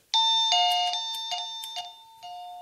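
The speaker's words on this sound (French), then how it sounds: "Il a gardé la même sonnerie que j'avais déjà mis." An EcoDring wireless battery-free doorbell chime rings out a clear, loud electronic melody of several bright tones in a row, close by with no talking.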